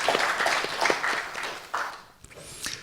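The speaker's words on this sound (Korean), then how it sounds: "이 건강을 위해서 박수 한번 좀 쳐주시죠." Audience applause at a KIST alumni lecture event rises in a few rippling waves and thins out, with a voice speaking faintly through it.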